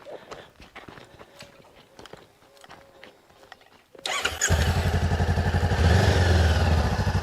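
A Honda CBR500R motorcycle engine cranks and fires up loudly after a few quiet seconds of faint footsteps and shuffling, then settles into a steady, smooth idle close by.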